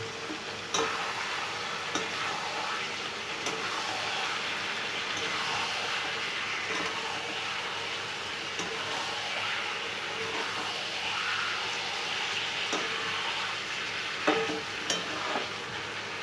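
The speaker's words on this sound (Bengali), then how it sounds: "তো তেলটা ছেড়ে এসছে, আমি মাংসটা দিয়ে দেবো" Mutton pieces fry in hot oil in a pot, a steady close sizzle running throughout with scattered scraping and clinking of a stirring spoon against the pan.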